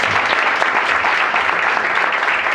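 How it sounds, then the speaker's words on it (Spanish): A congregation claps steadily for pastor Daniel Alfano at a church anniversary service, a dense, even wash of applause filling the whole stretch without pause. "Damos gracias a Dios con un aplauso al Señor por la vida de nuestro pastor Daniel Alfano."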